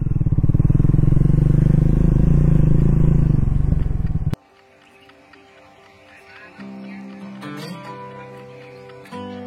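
A motorcycle rolls into a campsite at Palash Dungri in Purulia, its engine running loud and close for about four seconds before cutting off abruptly, followed by quieter clattering and faint voices nearby.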